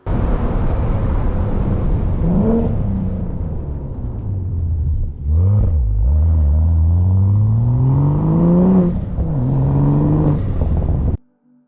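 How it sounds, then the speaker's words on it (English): A six-cylinder sports car with a Miltec exhaust revs loudly with a throaty note, pitch rising and falling through several pulls, then cutting off abruptly near the end. "That Miltec exhaust helps it sound pretty good too."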